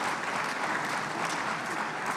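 A conference hall audience applauds in a continuous, dense wash of clapping, steady and fairly loud throughout with a faint crowd murmur beneath.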